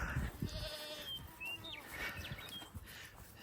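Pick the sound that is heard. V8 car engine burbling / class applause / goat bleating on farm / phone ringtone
goat bleating on farm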